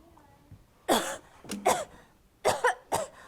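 A voice acts out several coughs, sniffs and wheezy snorts in quick bursts, close and fairly loud with short pauses between.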